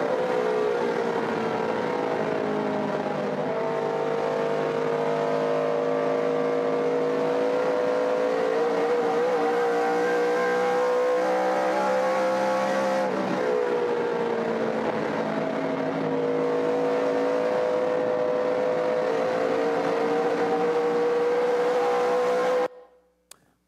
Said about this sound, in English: It's a lap around Rockingham Speedway, and it can be a bumpy ride